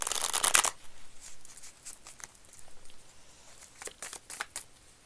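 Tarot cards are shuffled close up. A dense riffle opens the clip, then scattered soft pats and flicks follow as the deck is worked by hand.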